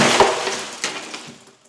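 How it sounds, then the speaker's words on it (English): A tempered glass shower panel from a bathroom tear-out shatters with a sharp crash, followed by a second burst and a trailing tinkle of falling fragments that fades out. "it doesn't take much and it'll just shatter into a bunch of pieces"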